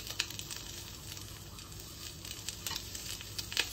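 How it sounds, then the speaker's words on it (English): Prawns seasoned with salt and olive oil sizzle on a hot grill, a steady close hiss with small crackling pops throughout, no talking. "Nice and hot grill, prawns last, they don't take long."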